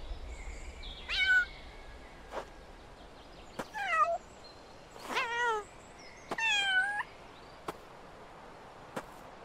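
Cat in The Bloodline letting out several short meows in sequence, mid-distance, against quiet ambience and occasional sharp clicks or chops.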